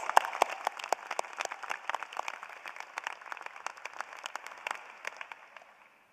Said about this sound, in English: Let's give all of our faculty members another round of applause